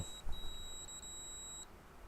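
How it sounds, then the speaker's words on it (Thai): A TF-600 infrared thermometer gives short, thin electronic beeps as it switches on: a brief chirp followed by a steady, longer tone, close by and alone. "มีเสียงตืดๆมันเปิดขึ้นมา"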